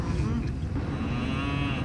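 A low, drawn-out cow moo sounds at moderate distance, with faint outdoor background noise and no talking.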